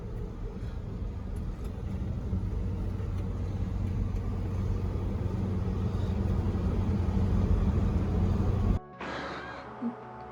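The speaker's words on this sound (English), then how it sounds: "like an old ratty truck, like tractor driving" A rumbling engine drones steadily as an old 1982 square-body K10 pickup truck drives along, loud and close, then cuts off abruptly near the end.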